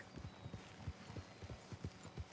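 A horse's hooves clip-clop at a steady walking rhythm in Red Dead Redemption 2, the soft, even thuds fairly quiet and alone.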